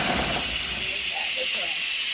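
A steady, loud hiss of steam vented by hand from a pressure cooker after cooking, continuous and close throughout, with faint background sounds beneath.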